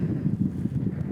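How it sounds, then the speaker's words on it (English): Wind gusts across open plains on an African safari, a loud, low rumbling buffet on the microphone that rises and falls for a brief moment with no voices. "Rather windy."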